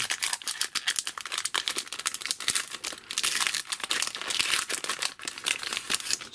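Foil Pokemon card pack, a vintage Gym Heroes or Neo Destiny booster, being torn and crinkled open up close, with continuous dense rustling and crackling throughout and no talking.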